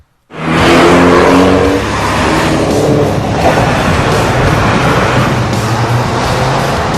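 A Mini John Cooper Works coupe with a 1.6 litre 208 horsepower engine accelerates hard, its engine note loud and close, a steady roar sustained throughout with a brief tire squeal.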